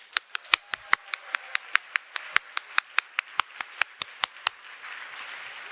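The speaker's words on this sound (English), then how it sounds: "give yourselves a big round of applause" Applause at a food security conference session, heard as a run of sharp, evenly spaced claps, about three per second, fairly close and clear, fading into a softer wash of clapping at the end with no talk.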